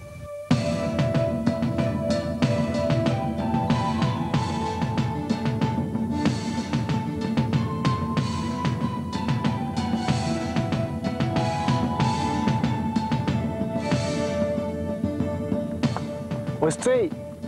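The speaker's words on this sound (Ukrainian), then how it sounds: "послухайте, як звучить цей неповторний орган" Pipe organ playing in the Cathedral of Peter and Paul in Kamianets-Podilskyi, with sustained, resonant chords and shifting tones filling a large reverberant space, loud and continuous throughout.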